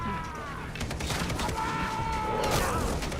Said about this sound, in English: this is the best explosive arrow ever